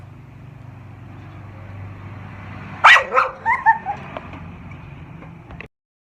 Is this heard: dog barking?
yes